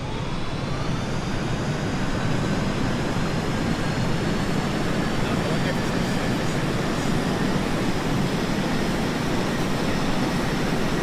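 Aircraft engine roar during an autopilot takeoff in Kerbal Space Program, a steady loud broadband rumble with a faint rising whine, continuous and unbroken throughout with no talk.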